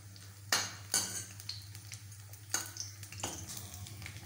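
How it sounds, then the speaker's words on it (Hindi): Laddu ingredients dry-roasted in a pan with a stirring spoon, with several sharp scraping strokes against the metal over a low steady hum, close and fairly loud, with no talking. "ये देखिए ऐसे ही हमको भूनना है।"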